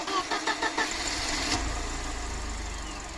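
A Mercedes-Benz W124 engine converted from carburettor to EFI cranks briefly with a few rhythmic starter whirs, then catches and settles into a steady, loud, close idle, no talk.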